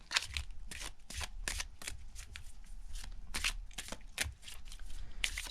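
Lenormand cards being shuffled by hand, a steady run of quick riffling and snapping bursts repeating throughout at close range, with no talking.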